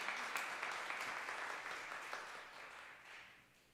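A church congregation applauds to welcome Pastor Li Guoyang and his team at a Sunday worship service, a dense, steady wash of many hands clapping that slowly fades out toward the end.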